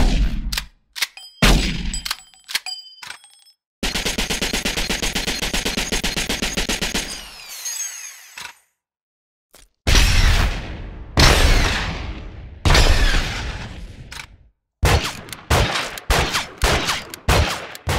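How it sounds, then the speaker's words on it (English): Video game weapon effects follow one another: rapid machine-gun bursts, sharp single gunshots and metallic clangs, loud and close. Brief silent gaps separate the sounds. "Here are some of the other weapon sounds Robert added to the game."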